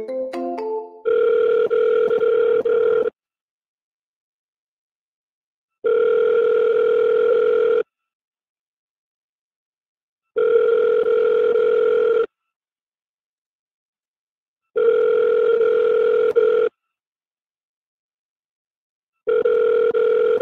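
A telephone line rings back after dialing, with steady two-tone ring bursts of about two seconds repeating roughly every four and a half seconds. The tones are loud and clear, with silence between them and no talk.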